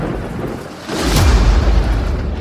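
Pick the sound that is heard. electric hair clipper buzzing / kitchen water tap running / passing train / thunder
thunder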